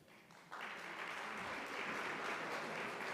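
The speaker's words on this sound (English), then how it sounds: "Please hold your applause to the end" A civic association's candidates night audience in North Braintree bursts into applause after a brief quieter moment, a dense, even wash of clapping that holds steady and fills the room.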